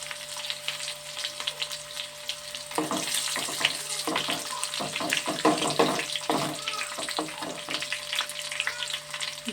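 Garlic and dried red chilies hit hot oil in a pan, a sudden burst of crackling sizzle erupting after a quiet moment and continuing in busy, spattering pops close by.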